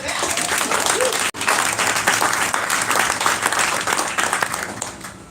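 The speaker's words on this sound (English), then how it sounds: "so I'm going to clap for that" A conference assembly audience bursts into sustained applause, dense and even with a brief break partway through. Faint voices sit under the clapping.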